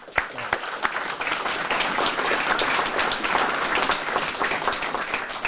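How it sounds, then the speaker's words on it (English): An audience at an outdoor community event in Woburn gives a sustained round of dense, even applause, loud and close, lasting throughout. "you need a great round of applause for that"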